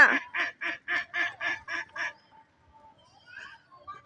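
Ducks give a rapid run of about eight loud, evenly spaced nasal quacks up close, then fall quiet apart from a few fainter calls; there is no talking.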